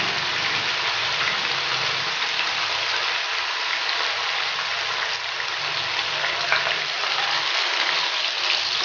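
Chicken with garlic ginger paste frying in a karahi, a dense steady hiss of sizzling oil, close and continuous throughout.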